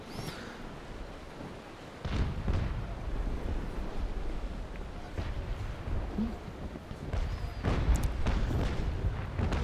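Ship cannons fire broadside volleys in the naval combat game Naval Action, heavy booms rolling in repeated bursts over a low wash of sea and ambient rumble, some blasts near and others distant.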